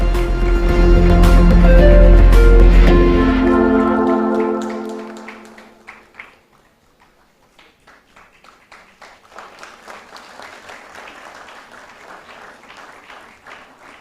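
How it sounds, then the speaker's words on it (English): At an Indian grant awards ceremony, a loud, full swell of sound with some tonal content fades after about five seconds into sparser, scattered hand claps from the audience. "A huge round of applause, please."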